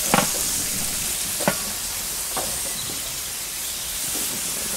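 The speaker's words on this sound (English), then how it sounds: "Little flare up as the oiled peach is greeted by the hot grill." Oiled peach halves sizzle on a hot Weber Q gas grill, a steady high hiss with a few sharp crackles and pops near the start, no voices.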